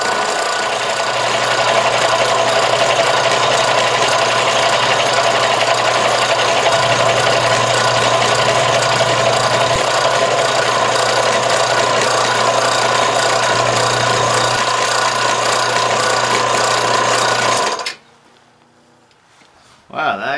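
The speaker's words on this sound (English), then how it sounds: "I don't use this milling machine that much." Milling machine cutting a support part for a steam engine build, with a loud, steady mechanical whine and a low motor hum over a long pass, cutting off sharply near the end.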